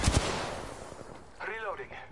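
Gunfire in the video game Apex Legends, a couple of sharp close shots at the start followed by a rumbling tail and distant crackle, with a brief voice-like call near the end.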